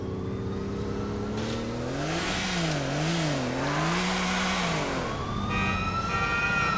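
A Porsche engine in the video game GTA IV revs up and down with a steady, loud, wavering whine that rises and dips under a constant hum, and no one speaks.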